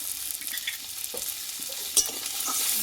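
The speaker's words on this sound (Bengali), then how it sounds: "এবার টমেটোটা ভালোভাবে একটু কষিয়ে নেব মশলার সঙ্গে যাতে কাঁচা গন্ধটা চলে যায়" Half a tomato with salt and turmeric sautés in a pan, a steady close sizzle broken by stirring scrapes and one sharp spatula knock.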